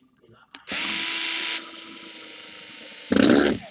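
Long screws being driven into the side of a remote-control car (an HBX Survivor) during a rear arm holder repair; a cordless drill whirs steadily for about a second, then runs on more quietly before a louder final burst, close up.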